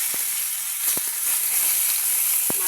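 Tilapia fish frying in hot oil in a kadai, giving a loud, close, continuous hissing sizzle punctuated by a few sharp spatters and pops.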